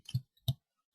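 Two distinct computer mouse clicks about a third of a second apart, close and crisp against silence, during work in ODI data integration software.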